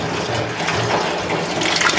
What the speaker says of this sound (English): the water is going in